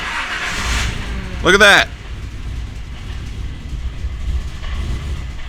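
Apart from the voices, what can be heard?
car engine starting and idling after cold start tuning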